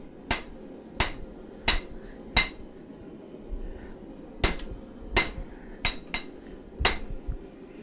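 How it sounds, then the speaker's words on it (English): A hammer forges hot steel into a chef knife, ringing out in sharp metallic strikes in irregular groups of four, then several more after a brief pause, each blow loud and close with a short bright decay. "I hope you're enjoying the hammering."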